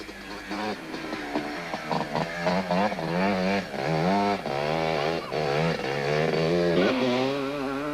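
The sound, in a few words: Yamaha Blaster quad engine racing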